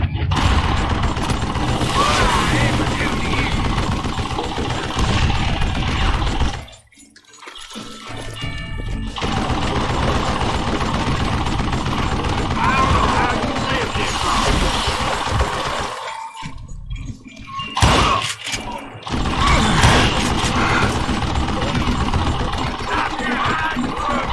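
Dense, loud gunfire and clattering weapon handling from the Wild West shooter Call of Juarez: Gunslinger, with near-continuous bursts broken by two brief quiet gaps.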